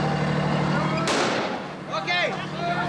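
Army gunfire in a street confrontation, a sharp broadband blast cracking out mid-clip amid crowd noise and shouting voices, followed by fainter echoes and more yelling.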